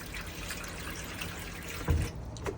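Water runs from an open hot-water tap in an Elddis Majestic 115 caravan, a steady close-up rush and splatter with a brief louder splash near the end and a faint drip after it; no one speaks.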